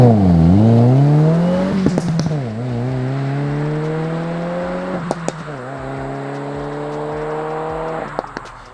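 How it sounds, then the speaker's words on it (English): A car fitted with a Remark aftermarket exhaust system revs repeatedly, its engine note rising and falling in several loud, close sweeps with sharp crackles between them and no talking. "this exhaust sounds absolutely amazing"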